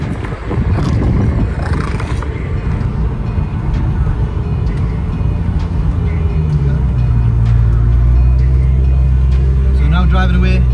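A Nissan Skyline R32 with a freshly swapped differential pulls away on a test drive: a close, heavy engine rumble that builds and steadies as it gets moving, with faint voices in the cabin.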